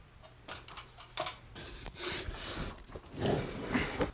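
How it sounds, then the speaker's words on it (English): A spade bit bores through wood on a pool liner installation job, giving close, irregular bursts of grinding and rubbing that rise and fall over a few seconds with no talk. "just drilled his spade bit right through here"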